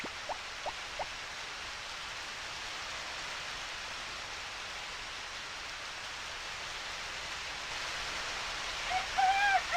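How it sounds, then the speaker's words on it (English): Steady hiss of rain in the Stardew Valley game runs through the whole stretch at an even level, with a few faint tonal blips near the start and a brief chirpy sound at the end. "It's raining today."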